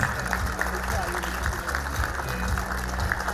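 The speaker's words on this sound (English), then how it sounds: "A big applause, parents." Parents applaud at a school annual day, a steady wash of clapping that runs the whole time beneath low tonal sound and voices.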